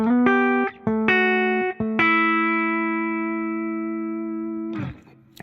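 An electric guitar run through a heavily compressed FM9 signal chain plays a few chords or notes, then lets the final one sustain almost unchanged for several seconds before it cuts off, with no talk over it.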